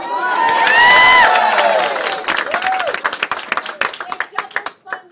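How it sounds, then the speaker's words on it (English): A crowd at a campaign office event bursts into clapping and cheering with whoops and shouts, loud at first and then thinning into scattered claps as it fades. "You can clap for that."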